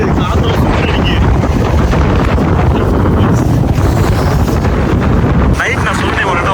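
Strong, cold wind blowing at a dam in the morning buffets the microphone with loud, continuous rumbling gusts that drop off briefly near the end.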